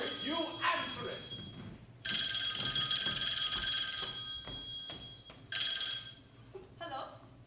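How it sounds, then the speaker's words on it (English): An old telephone bell rings in two long bursts with a shorter third, loud and close, while people talk around it in a dramatized scene. "The phone rings."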